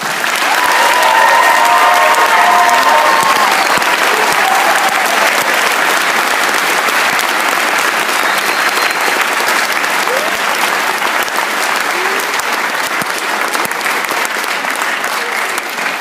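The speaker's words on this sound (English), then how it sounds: "Let's give a big round of applause to the U.S." A convocation audience gives loud, sustained applause and cheering for the U.S. Army, a dense wall of clapping with crowd noise that holds steady and near for the full stretch.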